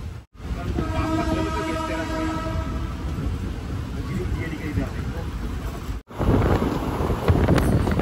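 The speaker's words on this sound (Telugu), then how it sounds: "మన ట్రైన్ అయితే ఇప్పుడే పాండిచ్చేరి నుంచి స్టార్ట్ అయింది ఫ్రెండ్స్." A passenger train pulling out of Pondicherry on the CirCar Express run, its horn sounding early as rail rumble and wind buffeting carry on steadily beneath a person talking.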